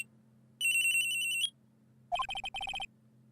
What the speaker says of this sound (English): At around 10:30, I received a call on my cell phone.